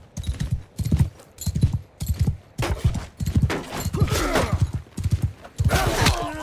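Horse hooves clip-clop in loud, rhythmic bursts during a Mount and Blade Bannerlord battle, with clashing impacts and scattered combat noise layered over the galloping.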